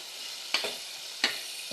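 Spice masala sizzles steadily in a pan while being stir-fried, broken by a few quick spatula scrapes against the metal, close by and clear.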